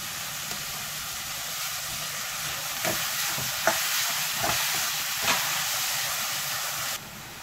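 Tomatoes hit sizzling masala for Punjabi chole, a steady hissing fry with a few sharp stirring taps and clacks, close and fairly loud, continuous throughout without talking.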